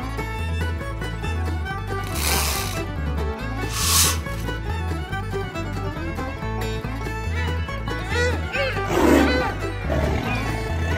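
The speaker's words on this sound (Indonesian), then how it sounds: "harimau Sumatera." A Sumatran tiger roaring, heavy growls rising in a few bursts over a looping rhythmic music backing, with no talk.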